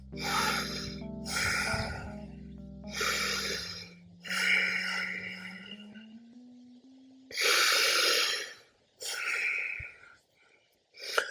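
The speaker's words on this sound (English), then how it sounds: "Back to normal, in through the nose, out through the nose." A person breathing slowly in and out through the nose, several drawn-out airy breaths separated by short pauses, heard over soft sustained background music.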